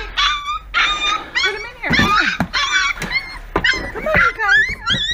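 Several puppies whimper and yip in high, wavering cries, overlapping in quick bursts close by, while a person speaks softly among them.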